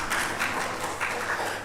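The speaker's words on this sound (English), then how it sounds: "he gets a second round of applause because he's a Cornell alum" Audience applause for a Cornell alum at a university visit event, a steady wash of clapping from many hands at moderate distance, continuous for under two seconds.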